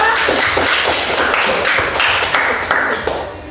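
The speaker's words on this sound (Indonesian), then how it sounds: "beri tepuk tangan kepada kelompok 3" A classroom group applauds the third presentation team, a dense burst of hand claps that keeps a steady level before thinning out near the end.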